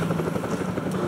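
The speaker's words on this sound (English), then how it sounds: "Chopper!" Helicopter rotor chopping steadily in the zombie shooter World War Z, a continuous low thrumming drone with no speech over it.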